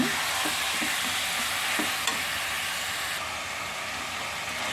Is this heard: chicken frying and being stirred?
yes